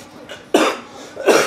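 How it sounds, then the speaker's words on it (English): A person gives two sharp coughs up close, the first heavy burst followed by a short gap and then a second cough, with a faint softer cough-like breath before them. "excuse my cough"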